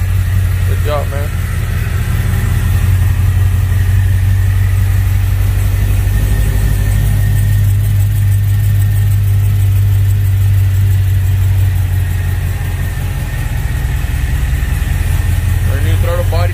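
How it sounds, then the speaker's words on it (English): A Cadillac CTS-V with a ported supercharger and an untuned new throttle body idles loudly up and down, a deep steady rumble with a faint whine, close by throughout. "That's why it idles up and idles down."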